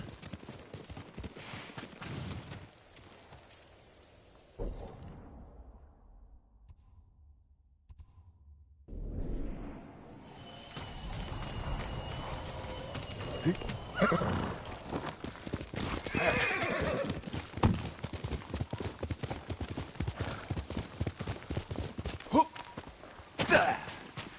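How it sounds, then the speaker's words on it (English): Horse hooves clip-clop in a steady rhythm with whinnying in the video game Ghost of Tsushima, dropping to near silence briefly before the galloping and neighs return louder. "Horse!"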